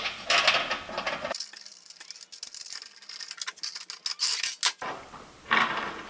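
Nuts, bolts and a small cheap wrench clink and tick while a metal raised garden bed is put together: close metallic taps and scrapes, with rustling bursts at the start and end and no speech.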